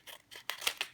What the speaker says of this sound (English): I'm even going to take my scissors and I'm just going to cut this bulk from the